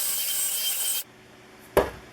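Drill bit cutting a pocket hole into wood through a Kreg jig, a loud steady grinding whir for about a second that cuts off abruptly, followed by a single short knock.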